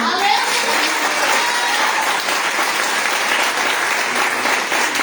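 Congregation applauding during an evangelical church service, steady loud clapping filling the room throughout with no pauses.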